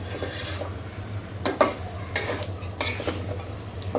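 Mutton with pumpkin pieces is stir-fried in a pan, giving a low, steady sizzle under several short, sharp scraping bursts from the stirring spoon.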